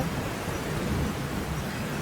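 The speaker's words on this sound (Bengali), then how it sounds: "যেমন মেঘ গর্জন করছে তেমন বৃষ্টি নামছে" Heavy rain pours in a constant dense roar with a low rumble of thunder mixed in, steady throughout and without any voices.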